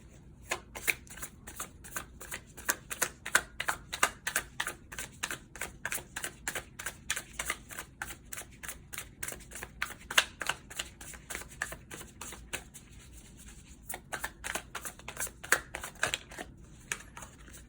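Tarot cards shuffled and drawn during a love reading: a long run of crisp, rapid riffling and flicking close to the microphone, steady throughout with brief pauses.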